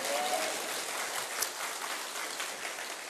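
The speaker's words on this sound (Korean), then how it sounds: "하나님 앞에 감사와 찬양과 영광의 박수를 올려드립니다." A church congregation applauds during a Christmas service, a dense, steady wash of many hands clapping that fills the whole stretch without a break.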